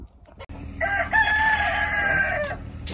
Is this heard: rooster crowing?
yes